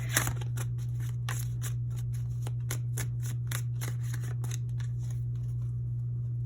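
Tarot cards being drawn and handled, heard as quick, repeated papery flicks and slides close by, steady over a constant low hum, with no speech.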